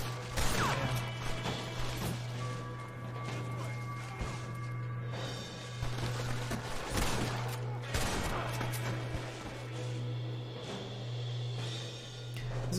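Gunfire in the Western shooter Red Dead Redemption, with scattered sharp shots and clattering impacts at irregular intervals over a steady low musical drone and game ambience.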